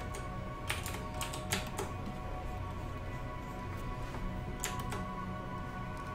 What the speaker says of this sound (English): That you might hear that on my keyboard.